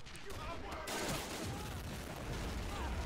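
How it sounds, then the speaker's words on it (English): Japanese machine gun fire in the Men of War Pacific mod battle at Shuri Castle, a dense continuous rattle of bursts mixed with distant gunfire and explosions, loud and unbroken. "they're facing a Japanese machine gun straight away"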